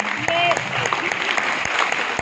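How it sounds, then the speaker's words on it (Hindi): Applause from an audience at a business gathering in India rises right after a call for loud clapping and carries on steadily, with other sounds mixed into the dense claps. "उसके बाद मैं स्पेशली चाहूंगा जोरदार तालियां उस शख्स के लिए"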